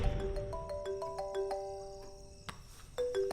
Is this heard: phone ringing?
yes